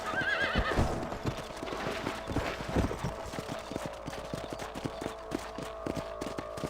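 Horses gallop with steady clip-clopping hooves and an early whinny in the Western video game Red Dead Redemption on PC, hoofbeats loud and close throughout with no talk.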